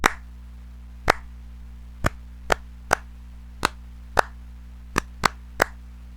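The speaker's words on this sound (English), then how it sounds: "Now that's a clap." Hand claps recorded close on a microphone: about ten sharp, single claps at uneven intervals, each ringing out briefly over a steady low electrical hum, with nothing else in between.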